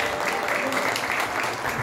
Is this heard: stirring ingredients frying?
no